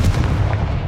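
A Confringo blasting spell goes off in Hogwarts Legacy, a single loud, booming fiery burst with a heavy low-end rumble that fills the brief moment.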